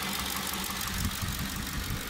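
A Ford 4.6L 3-valve V8 idles after a cam phaser lockout, with a slightly rough, steady low rumble and the faint ticking puff of an exhaust leak, running continuously with no talk.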